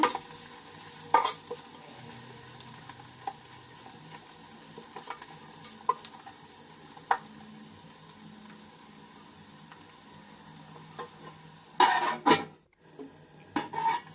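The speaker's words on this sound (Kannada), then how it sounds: "ಈರುಳ್ಳಿ ಎಲ್ಲ ಚೆನ್ನಾಗಿ ಫ್ರೈ ಆಗಲಿ ಗೋಲ್ಡನ್ ಕಲರ್ ಬರಲಿ" A large batch of onions, about two kilograms, fries until golden for chicken biryani: constant sizzling under sparse spoon scrapes against the pot, then a louder burst of clattering stirring near the end, with no voices.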